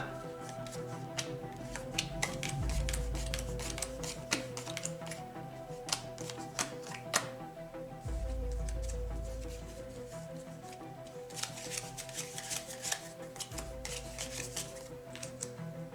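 Playing cards flicked down one after another onto a table during a tabletop card game, a dense run of light, crisp snaps and taps up close, with a low background hum and no speech.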